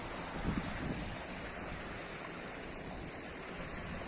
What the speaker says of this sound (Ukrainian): Стікає малий водопад.